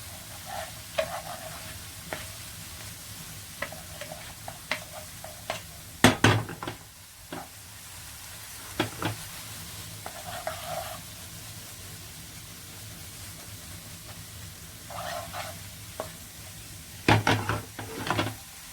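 Paneer fries in a kadai with a constant low sizzle as it is tossed and stirred, bursts of scraping and clattering pan movement recurring throughout.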